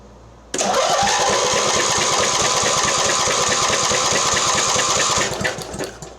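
A Mastercraft 46-inch riding mower engine cranks on a booster pack with no battery fitted, a loud, fast rhythmic chugging that starts abruptly, holds steady with a high whine for about five seconds, then stops.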